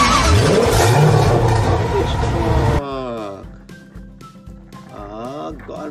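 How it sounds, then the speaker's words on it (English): Toy garbage truck engine effect: a loud, dense revving roar with rising pitch sweeps that cuts off abruptly, followed by quieter talking. "garbage truck."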